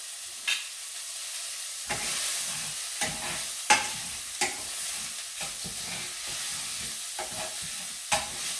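Onion, garlic and peppers are stirred in a pan, with repeated scraping strokes of a utensil over a low, steady sizzle. The strokes come at an irregular rhythm, close and clear.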